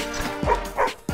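Fifi the dog barks in the PS3 video game Madagascar 2: a few short yapping, whimpering barks in quick succession, close and clear.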